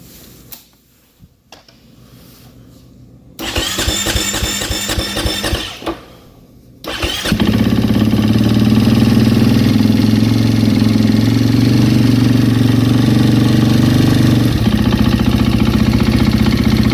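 A motor fitted with a Trail Tech Voyager Pro RPM gauge cranks briefly, catches on a second try and settles into a loud, steady idle that runs close up and uninterrupted to the end.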